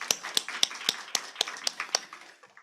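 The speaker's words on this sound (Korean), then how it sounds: "우리 다시 한번 하나님께 영광의 박수 쳐드리겠습니다" A church congregation clapping during a worship service: sharp, evenly spaced claps in a steady rhythm, about ten beats over a few seconds, fairly faint and fading at the end.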